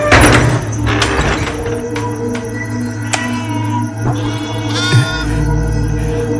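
Sheep bleat repeatedly, the wavering cries loud and close, with a low hum beneath and a couple of sharp knocks near the end.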